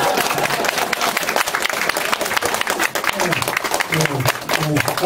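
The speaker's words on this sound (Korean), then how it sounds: "좀 박수라도 크게 쳐줘야지" A lecture audience at a Korean public talk gives loud, sustained applause. The thick, continuous clapping fills the whole stretch, with a few voices and shouts showing through.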